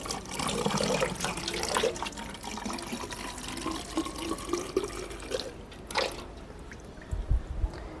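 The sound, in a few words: water poured from a cup into a car coolant reservoir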